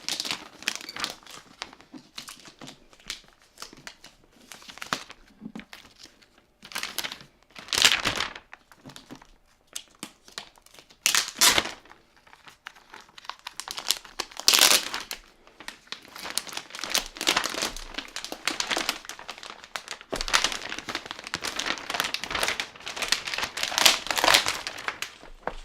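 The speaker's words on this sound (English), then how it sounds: "Nice plastic wrap. I'm just gonna undo that." Plastic wrap crinkling and tearing as it is pulled off a Razer Panthera arcade stick, close, irregular rustling bursts that come and go over about 25 seconds without talk.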